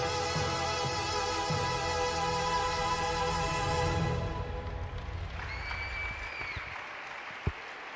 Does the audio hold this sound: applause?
yes